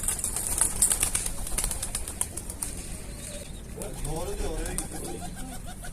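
Mardin pigeons coo and their wings flutter and flap close by, with the birds' throaty calls rising near the end amid outdoor noise.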